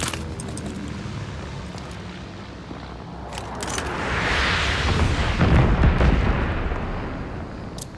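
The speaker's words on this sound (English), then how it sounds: "Friendly bombing run inbound." Bombing run explosions in the video game Call of Duty Vanguard rumble through a barrage of heavy, booming blasts that build toward the middle and end, with scattered sharp cracks of gunfire mixed in.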